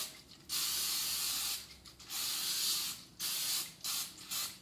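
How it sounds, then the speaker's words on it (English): A cooking oil spray can sprays into a pan in several hissing bursts, some long and some short, close up with short pauses between them. "give it a real light spray with a cooking oil"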